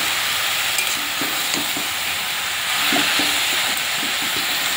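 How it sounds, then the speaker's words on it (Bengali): Banana stem, potatoes and chickpeas being stir-fried together in a pan, a constant close sizzle with a handful of soft scraping and clinking stir strokes, no speech. "ভালো করে এবার একসাথে কষিয়ে নেব থোড়, আলু আর"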